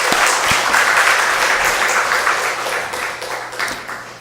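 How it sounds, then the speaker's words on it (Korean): A church congregation applauds to encourage students and teachers at a worship service, full steady clapping that slowly fades toward the end. "학생들과 우리 교사들에게 우리 박수로 한번 격려해 주시기 바랍니다."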